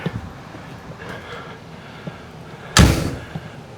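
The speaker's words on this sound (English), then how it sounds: "Let me shut this door." A door inside an RV is pulled shut with a single sharp, loud slam near the end, preceded by faint rustling and handling sounds.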